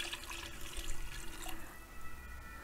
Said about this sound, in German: Jetzt geben wir hier nochmal ungefähr einen Liter Gemüsebrühe drauf.